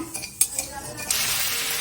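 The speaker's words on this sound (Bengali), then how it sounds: "গোবিন্দভোগ চালটা আমার ভালো করে ভাজা হয়ে গেছে।" Gobindobhog rice is stirred in oil in a kadai: a few scraping clinks of the spatula against the pan, then a steady sizzle of frying that carries on to the end.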